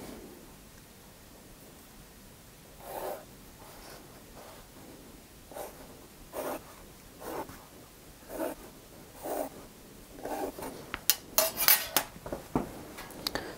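A pencil drawn along a ruler across paper while laying out a segmented vase plan: a close, dry run of short scratchy strokes that come more often and louder toward the end, with no talking.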